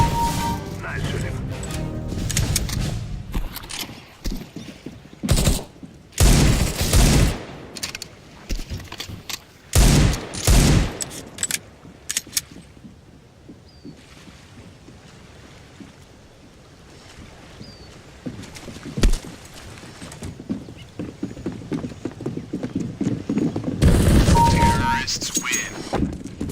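Gunfire in Counter-Strike: Global Offensive on the Lake map in Demolition mode: loud bursts of rapid shots in separate clusters, with quieter stretches of ambient game sound between them.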